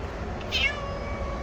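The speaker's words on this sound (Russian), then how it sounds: "Черная кошка. Люблю черных кошек." Brief single meow from a black cat outdoors on a street in Haifa, Israel, heard over steady ambient background noise, short and moderately clear.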